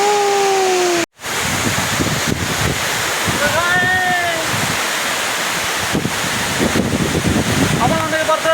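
Bari waterfall roars steadily deep in the jungle, a dense unbroken wash of water noise with wind buffeting the microphone, a brief dropout near the start and a few high thin whistling calls rising above the roar.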